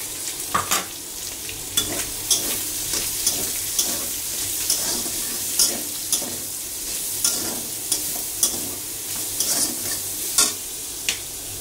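Onions sizzle and fry in the oil left over from frying chicken, with a steady crackling hiss broken by regular spoon stirs and scrapes against the pan.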